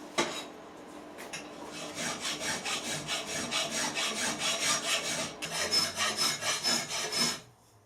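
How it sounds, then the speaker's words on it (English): A hand file with a fitted handle dresses the welds on a repaired adjustable spanner, giving a steady run of about a dozen rhythmic rasping strokes, close and fairly loud, after a brief scrape at the start, with no talking. "All I'm going to do now is have a bit of file and just dress the welds off."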